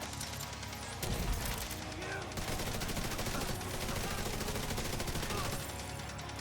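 Loud, rapid automatic gunfire in The Division 2, a continuous near stream of shots, mixed with other game sounds and a player's voice talking over it.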